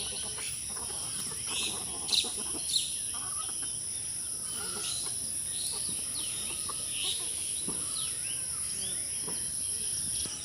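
Chickens are fed rice on the steps of a grassy home courtyard. Soft clucking and scattered bird calls sit over steady insect chirping, broken by a couple of sharp knocks.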